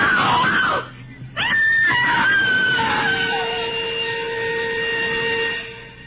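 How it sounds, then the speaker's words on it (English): A woman in an old-time radio crime drama screams and cries out for help on a common, loud sustained wails and shrieks with a brief pause, trailing into long strained tones. "A woman screamed and cried for help on the Wayfield Common."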